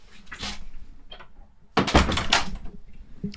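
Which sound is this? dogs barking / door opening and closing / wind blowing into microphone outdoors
door opening and closing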